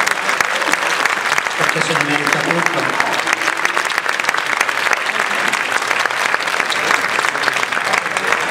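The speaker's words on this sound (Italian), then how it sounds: "Igor Millo, al quale io farei un grandissimo applauso" A large audience claps loudly and steadily for Igor Millo at a tribute evening for Renzo Muscoli in Muggia, a continuous dense roar of hands while someone talks briefly over it.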